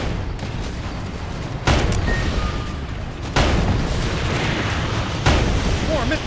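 Missiles burst in the Sand Land video game, three heavy booming blasts spaced about two seconds apart over a constant rumbling battle din, loud and close, with a game character's voice talking in between.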